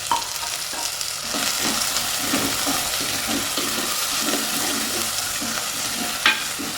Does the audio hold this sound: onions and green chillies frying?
yes